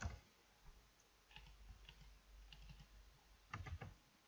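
Faint, scattered keystrokes on a computer keyboard as text is typed into code, a few soft clusters of clicks separated by pauses, ending in a louder burst, with no voices.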